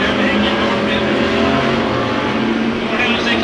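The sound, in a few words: race cars side by side on Ocean Speedway straightaway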